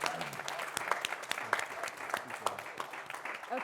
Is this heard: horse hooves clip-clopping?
no